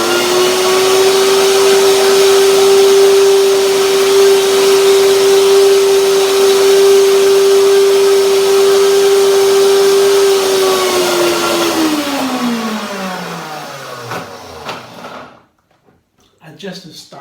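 A blender whirring steadily as it purees cashews and bananas, a loud sustained motor drone that runs for about twelve seconds, then winds down, followed by a few clunks as it stops.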